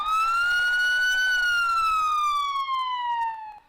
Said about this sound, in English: Can we get a police siren?